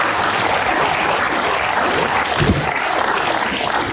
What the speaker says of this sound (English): can I have a round of applause for every single student who's taken their guts here?